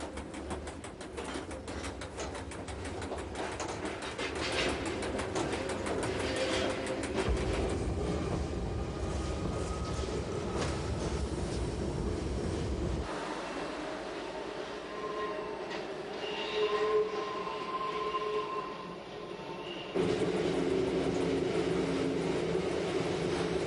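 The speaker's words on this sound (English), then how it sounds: "our train can pass smoothly over the repaired section" An Appenzell Railways train rolls over a freshly repaired section of track, a long continuous rumble of wheels and carriages with shifting tones, rail squeal and clatter changing as it runs, steady and fairly loud throughout.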